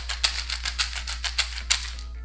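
A homemade egg shaker, tape-wrapped and filled with beans, shaken in a steady rattling rhythm of about a dozen crisp gritty bursts, close and moderately loud, over a constant low hum.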